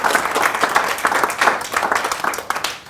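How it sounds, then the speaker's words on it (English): A seminar audience in Auckland gives a steady round of applause for a volunteer, dense clapping holding strong for about three seconds with no talking over it. "You could give him a round of applause."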